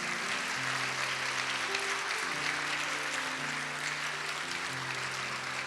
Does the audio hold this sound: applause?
yes